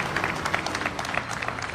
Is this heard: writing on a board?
no